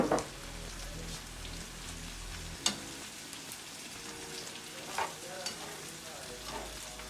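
Ground spice masala fries in a frying pan, a steady sizzle broken by a few sharp scraping clinks as a spoon stirs it, close and fairly loud with no voices.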